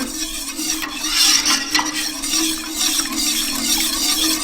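A spoon stirs a canned ingredient into a thick roux paste for chicken a la king, making continuous close, wet scraping and swishing in the pot with a faint steady hum behind it.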